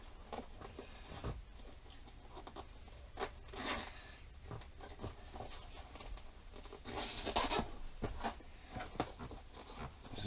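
A zipper on a vinyl item is worked in short, scratchy rasps, close and fairly quiet, with bursts repeating over several seconds and no talk.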